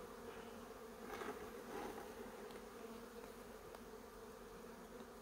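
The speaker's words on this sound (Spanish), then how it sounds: "tiene tantas abejas que es dificilísimo de manejar" A crowded beehive full of honeybees hums as the colony is worked before wintering. The buzzing is a thick, unbroken drone with slight swells as individual bees pass close, and no voices are heard.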